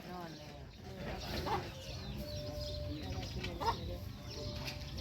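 Chickens cluck on a Thai rural property while temple donations are being prepared, with a few clear calls standing out over steady background chatter and people talking nearby.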